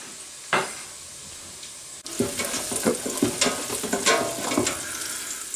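Onions caramelizing in a pan, fried for a spinach and artichoke dip, give a steady sizzle with stirring scrapes; after a brief lull the frying grows louder and busier, with repeated spoon strokes through the hiss.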